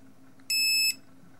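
Small multimeter in continuity mode giving a single short, high-pitched electronic beep of about half a second, loud against a quiet background hum.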